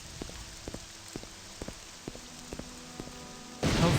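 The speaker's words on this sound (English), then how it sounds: "Oh, good, it's raining." Rain patters steadily in a Morrowind game world, with a faint background hiss and soft repeated taps, then a loud burst of wash near the end.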